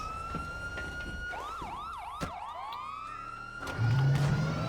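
Police siren in GTA 5 Online, wailing up and down in quick repeated sweeps in the middle of the stretch over steady game engine and traffic noise, with a lower horn-like tone joining near the end.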